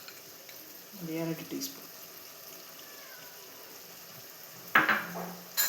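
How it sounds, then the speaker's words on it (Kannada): Ground mustard, cumin and black pepper powder sizzle in a hot frying pan in a home kitchen, a soft steady hiss running under a voice and a few stirring clinks. "ಇವಾಗ ನಾವು ಗ್ರೈಂಡ್ ಮಾಡಿರುವಂಥ ಸಾಸಿವೆ, ಜೀರಿಗೆ ಹಾಗೂ ಕಾಳು ಮೆಣಸಿನ ಪುಡಿ ಹಾಕ್ತಾಯಿದ್ದೀವಿ."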